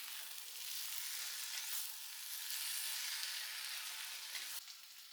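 Chopped potato, ginger and garlic sizzle in a hot pan for chicken kuzhimanthi, giving a dense, continuous hiss and crackle. The steady frying sound is close and fills the clip before easing slightly at the end.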